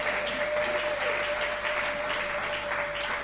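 A church congregation bursts into steady applause, dense continuous clapping from many hands filling the room, loud and even throughout with no pauses.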